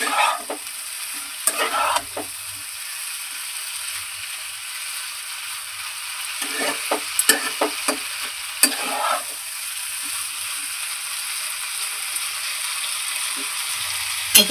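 Fried broccoli and potatoes are stir-fried with spices in an oily pan, a steady loud sizzle broken by clusters of quick spatula scrapes and rattling knocks against the metal.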